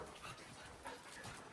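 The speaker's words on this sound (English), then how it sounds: "On the rooftop of the shelter lives a dog named Kalu." A dog kept alone on the rooftop of an animal shelter in Varanasi, India, gives soft whimpers and short vocal sounds close by, with a person's voice faintly mixed in.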